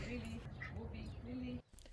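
A duck quacks insistently in quick, nasal calls, close by and fairly steady, then the calls cut off abruptly.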